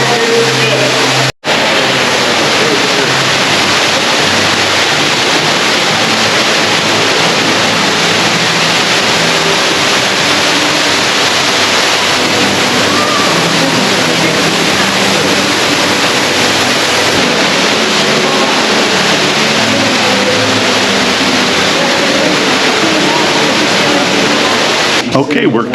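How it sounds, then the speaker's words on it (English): A massive waterfall more than 1,000 feet down inside one of the deepest caves in America roars steadily and loudly throughout, with a voice speaking over it. "this is a massive waterfall behind us"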